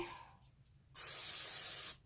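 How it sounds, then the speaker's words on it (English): Cooking spray hisses from a can into a pan for breakfast tacos, one steady burst of about a second, close and loud, after a quiet pause with no talk. "A little bit of cooking spray, make sure it doesn't stick."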